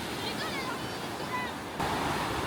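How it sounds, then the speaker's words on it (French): Ocean waves roll toward the shore at a surfing beach: a continuous, loud, close wash of surf with some wind buffeting the microphone and no speech. "Là, les vagues elles s'approchent très fort."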